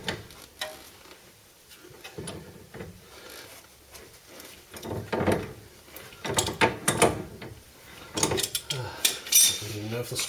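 A spanner works a nut on a T3/T25 steering rack bush, giving close metallic ratcheting clicks and clanks in irregular bursts, with occasional quiet voice sounds between.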